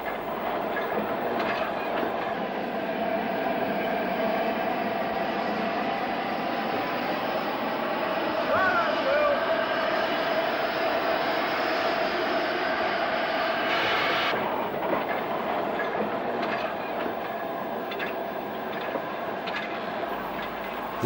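Steam locomotive 45020 easing slowly over treble slip points on a 1960s railway, a continuous rumbling roll with faint clicks of wheels on rail joints, steady and moderately distant, with no voices.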